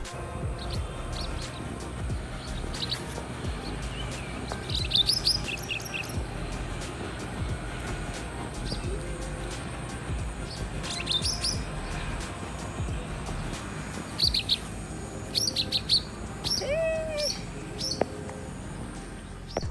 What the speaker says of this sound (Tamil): இந்த ஏரியாவில் தான் நிறைய பறவையாக இருந்தது. ஸோ அது சவுண்டே செமையாக இருந்தது கேட்கும்போது.